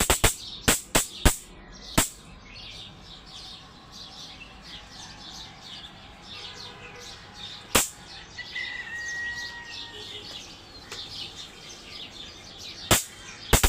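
Birds chirp and sing softly in the morning in the background, interrupted by loud sharp clicks, several at the start and a couple later.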